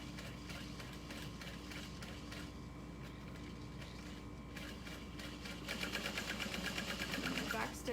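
A sewing machine fitted with a walking foot stitches a handbag, humming steadily up close with a fast repetitive mechanical rhythm that grows louder and quicker toward the end.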